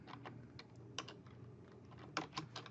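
Quiet tapping on a computer keyboard while entering Excel VBA macro code, with scattered keystrokes and a few quick bursts of clicks, close and soft with no voices.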